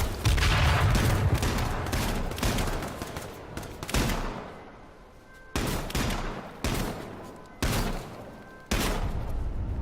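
Rapid AR rifle fire from a video game comes in long dense bursts, loud and close, broken by short gaps and a few quieter stretches, with no voice over it.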